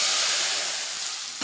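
A tempering of red chillies, garlic and curry leaves tipped into curry gives a loud, steady, broad sizzle that holds for over a second, then drops with a small clunk at the end.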